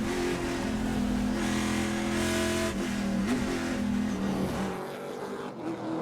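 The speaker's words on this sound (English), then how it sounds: "Chevrolet Camaro Team SLR M1. 154 miles an hour." A Chevrolet Camaro Trans Am race car at about 154 mph during a 2024 Portland race, its engine roaring loud and steady, with a pitch that shifts as it accelerates, then easing off at the end.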